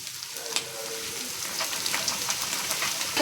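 Shredded cabbage hits a hot pan and fries with a steady, close sizzle, interrupted by brief stirring scrapes and no talking.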